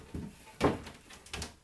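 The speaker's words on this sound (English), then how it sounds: "And open both doors." Food dehydrator doors, Excalibur and Sedona units used for kale chips, opened one after another: a few soft clunks and scrapes with a sharper knock in the middle, close and fairly quiet.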